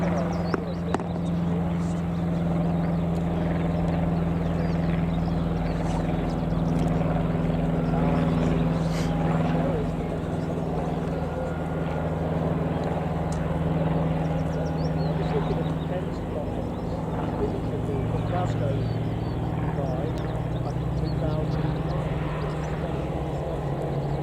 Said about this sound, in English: This is such a mint aircraft, man.